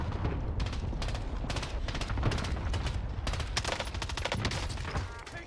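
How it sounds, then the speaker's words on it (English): Dense bursts of automatic gunfire in Call of Duty on Rebirth Island, many rapid shots overlapping in a loud, continuous fusillade that eases off only at the very end. "Taking direct fire."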